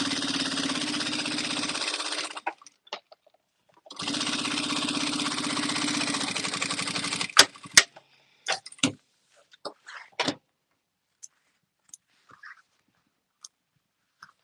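A sewing machine stitches two fabric pieces together with a half-inch seam allowance, running in two sustained whirring bursts followed by scattered clicks and handling noises.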